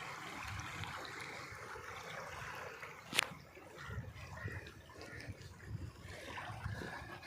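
Water running at full flow through an irrigation channel beside a family home, a steady low rushing wash with faint trickling, moderate and continuous.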